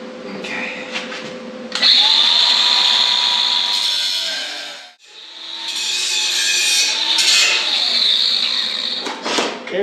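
Angle grinder running on sheet metal while framing out a driver's compartment, a loud, close, high whine that holds for several seconds, cuts out briefly, then starts again and grinds on to the end.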